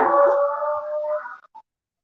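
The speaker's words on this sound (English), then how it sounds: "now of course we have the new dog right there" A newly adopted dog lets out one loud, close, drawn-out whine or howl that falls off after about a second and a half, followed by a short yip, then silence.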